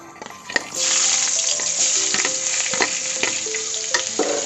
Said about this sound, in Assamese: পিঁয়াজখিনি মই অকণমান ৰঙচুৱা হোৱালৈকে ভাজি ল'ম।